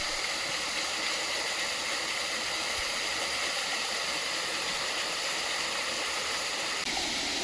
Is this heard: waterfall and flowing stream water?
yes